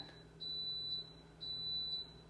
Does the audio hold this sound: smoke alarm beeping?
yes